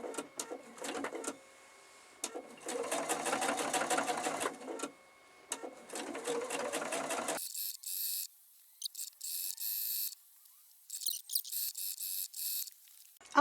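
A sewing machine stitches squares of a cathedral windows quilt in several bursts of fast, steady whirring stitching separated by short pauses, close and fairly loud.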